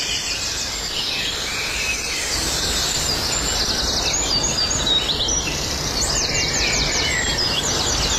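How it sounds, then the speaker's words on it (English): Many birds sing and chirp together in a dense outdoor chorus at dawn, with overlapping high calls and trills holding steady and fairly loud throughout, over a soft insect-like hiss. "I think we should let the birds do the singing."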